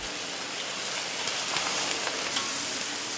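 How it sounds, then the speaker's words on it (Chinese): Guanyin vegetable stir-fried over high heat in a wok with fatty pork belly and bitter bamboo shoots, giving a steady, close, dense sizzle with faint crackles throughout and no voices. "大火爆炒"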